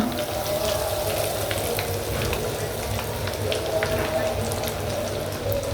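Pieces of Dhaka-style chicken chaap fry in shallow oil, giving a steady, dense crackle and sizzle with scattered pops throughout, close and continuous with no talking.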